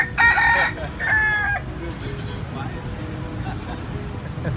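A rooster crows twice in quick succession on a street in Vietnam, loud and near, then traffic and street noise carry on in the background.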